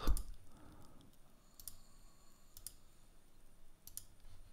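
Four sharp, isolated mouse clicks spaced a second or more apart while drawing a sketch in CAD software, crisp and close over a quiet room hum.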